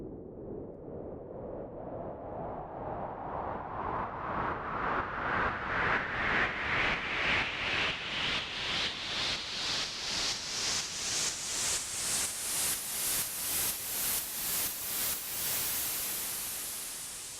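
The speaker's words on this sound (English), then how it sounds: "Kick is feeding the compressor is inserted on this white noise track, and it's acting like a duck. It's ducking and making that pumping sound." White noise ducked by a kick-drum sidechain compressor in Logic X, pumping in a steady rhythmic throb while a filter sweep gradually opens from dull to bright over about seventeen seconds, with no voices.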